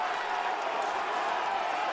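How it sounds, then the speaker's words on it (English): A boxing match crowd roars in a dense, continuous wash of cheering and shouting that stays loud and steady throughout. "The crowd are getting right in this one as well."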